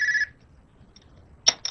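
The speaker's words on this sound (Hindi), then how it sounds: "आप जरा ये फोन तो उठ के सुन लें।" A telephone rings indoors in a drama scene, one short loud electronic trill, then silence, then a brief second burst near the end, close and unaccompanied by talk.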